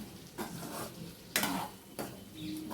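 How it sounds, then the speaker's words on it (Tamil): Potato fry with chili powder being stirred in a pan, several short scraping strokes of a spoon with faint sizzling between them, close and fairly quiet. "இது எல்லாத்தையும் சேர்த்து கிளறி விடணும்"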